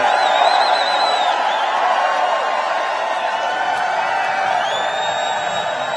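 Large political rally crowd cheering and shouting continuously, a dense steady roar with occasional whoops rising above it, loud and sustained throughout.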